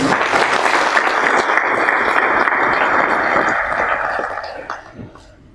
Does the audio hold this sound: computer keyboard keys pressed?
no